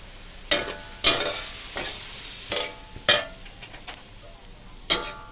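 Squash stir-fried with egg and minced pork in a pan gives a low, steady sizzle, broken by sharp scraping strokes of the spatula that come every second or so.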